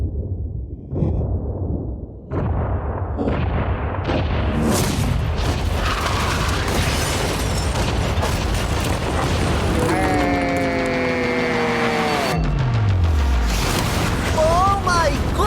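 A yacht blown up in a large explosion, a deep booming blast swelling into sustained roaring rumble with whooshing, descending tonal sweeps near the end, loud throughout.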